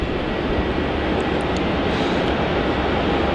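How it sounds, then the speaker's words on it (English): Loud, continuous jet engine rumble from a Jetstar airliner taxiing at Melbourne Airport after arriving from Ho Chi Minh City, close by and unbroken for the whole stretch, with no talking. "that Jetstar flight that just arrived in from Ho Chi Minh City to start using taxiway Alpha"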